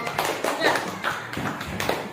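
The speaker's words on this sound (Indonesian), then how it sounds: "Ya, berikan tepuk tangan untuk kelompok" Students in a classroom applaud a group with a run of loose, uneven claps and taps. Murmured voices sit underneath the clapping throughout.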